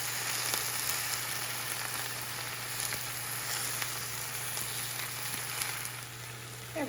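Spinach sizzling steadily in a hot pan with garlic while being gently turned with tongs, a continuous close crackle with a few faint scrapes and a steady low hum underneath.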